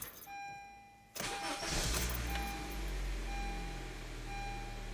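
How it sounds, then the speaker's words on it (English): A Honda Civic engine with a lean fuel condition cranks over and catches, then settles into a steady idle, while a faint repeating electronic beep chimes in the background. "So I'm gonna start the engine so we can confirm the customer's complaint."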